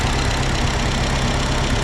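A 1950 Ford 8N tractor engine idles steadily and close by, a continuous low rumble with a faint knocking pulse that stays even throughout, with no talking.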